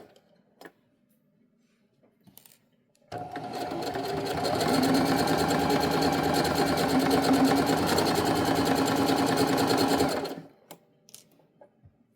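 A sewing machine stitches a hem on athletic pants, running steadily for about seven seconds after a short pause, with a fast even mechanical rattle that starts and stops abruptly against near silence.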